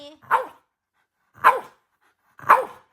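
Three sharp dog barks spaced about a second apart, fairly close and loud, with silence between them.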